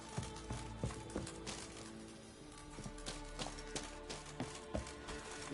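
Horse hooves clip-clop in The Witcher 3 video game, a moderately quiet irregular series of hollow knocks and taps repeating across the clip over a soft background bed.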